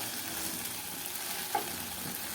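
Okra fry with salt is stirred in a hot pan, a soft continuous sizzle with a brief scrape of the spoon, close and alone.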